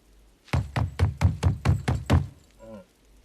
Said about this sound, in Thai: เคาะ